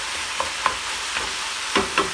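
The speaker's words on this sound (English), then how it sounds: "as you're cooking the beef, be sure you break it into small pieces with your spatula" Ground beef for a rustic Bolognese fries under a steady sizzle while a wooden spatula breaks it apart with a handful of soft scrapes and taps. It is close and has no talking.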